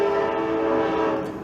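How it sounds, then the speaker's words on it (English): Trains rolling by a nearby train yard, a continuous tonal rumble with a horn-like drone that holds steady and loud throughout before easing slightly at the end. "I'm really sorry, guys, with the trains in the background"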